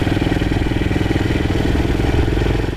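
A quad bike's engine under throttle gives a loud, close, steady drone with a fast rhythmic pulsing that holds for the whole stretch, with no voices.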